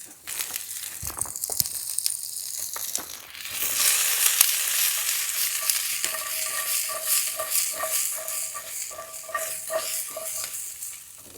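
Swiss chard stems dropped into a hot pan, first rustling and crunching, then rising to a loud, sustained sizzle with frequent stirring scrapes.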